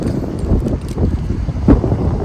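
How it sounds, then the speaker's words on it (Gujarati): Gusty wind rumbles and buffets the microphone in uneven bursts outside a shopping centre, loud and close, with no speech. "બહુ જ પવન છે"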